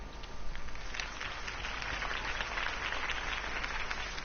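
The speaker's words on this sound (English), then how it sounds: "If only Mr. Wayne, my campaign's largest backer, could have heard that applause" Cartoon crowd applause following a campaign speech for a city election, a steady dense wash of clapping that fills the whole stretch without a break or voice on top.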